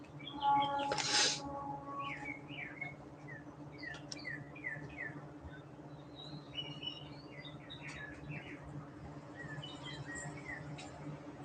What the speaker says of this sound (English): The birds are definitely having a great time out here in the bird garden.